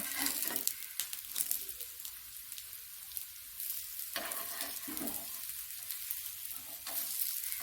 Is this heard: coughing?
no